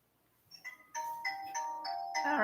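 An electronic phone ringtone plays as a bright, tonal repeating melody that starts faint and then sounds in several short bursts, growing slightly louder toward the end.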